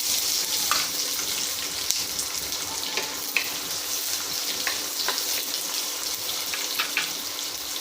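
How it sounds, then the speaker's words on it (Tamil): A pan of sliced large and small onions sautés with a steady, close sizzle and occasional scraping and clinking of a stirring spoon, and nobody speaks. "எல்லாம் நல்லா வதங்கட்டும் வெங்காயம் நல்லா வதங்கிட்டு"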